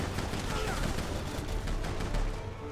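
Heavy gunfire in Resident Evil 6 during a Chris and Piers chapter: dense, rapid bursts of shots and booms that blur into one loud continuous fusillade.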